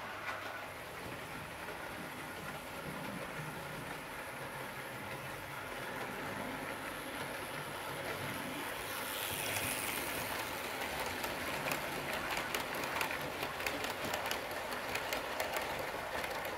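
A Bachmann 8750 pannier model locomotive running on a layout track at about half speed with auto coaches, giving a continuous fine whirring rattle that grows slightly louder and more clicky as it nears a curve.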